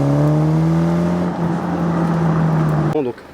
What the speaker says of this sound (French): C'est pour capter au maximum le son de l'échappement.